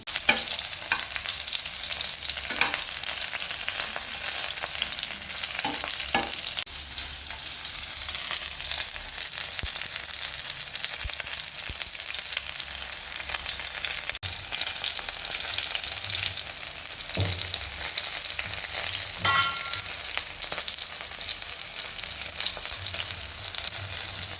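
Eggplant frying in oil for an eggplant curry, a steady, even sizzle that runs unbroken throughout with faint stirring clicks now and then, close and alone without talk.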